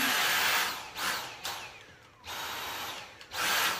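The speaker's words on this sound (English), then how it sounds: "I can vacuum my keyboard, cat hair, and all those types of things." A Dyson V8 Animal cordless stick vacuum whirs in loud bursts, cutting off and restarting several times with brief quiet gaps between runs.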